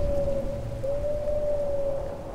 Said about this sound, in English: Oh, the rain's stopping.